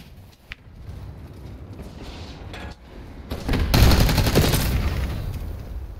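Gunfire in Call of Duty: Black Ops 6 hardcore multiplayer near a bunker, with scattered shots early on, then a loud, dense burst of rapid fire that swells in the second half and stays close.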